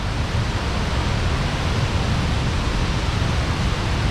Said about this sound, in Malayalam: നല്ല വെള്ളച്ചാട്ടം കേട്ടോ. നല്ല ശക്തിയിലാണ് വെള്ളം ചാടുന്നത്.